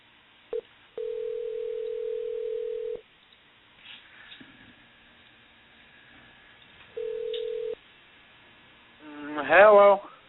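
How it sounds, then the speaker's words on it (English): Two steady electronic phone ringback tones, one long and one shorter, separated by quiet line noise, followed by a brief burst of voice. "Should hear a ringtone in a second"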